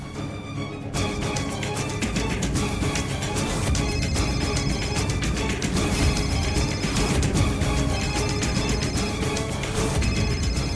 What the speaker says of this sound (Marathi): फोन कोणाचं वाजतोय?